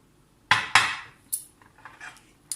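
A spoon stirring baking soda with boiling water in a cup: two sharp clinks close together, then a few lighter metallic taps and scrapes against the ceramic, close and alone.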